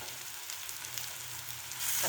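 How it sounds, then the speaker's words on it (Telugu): Onions frying in a pan for an egg and tomato curry, a faint, even sizzle that rises slightly louder near the end, with no talk. "ఆనియన్ మంచిగా ఫ్రై అయిపోయింది"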